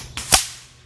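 A single sharp crack from an FX .25 Avenger air rifle firing a 25.4 grain pellet at a 100-yard range, loud and close, with a brief decaying tail.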